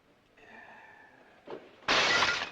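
Glass shatters loudly and abruptly near the end, following a quieter tonal stretch and a brief knock. The crash is sharp, bright and close.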